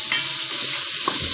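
Bacon sizzling and crackling in a pan without added fat, a steady bright hiss with a few sharper pops, close and alone.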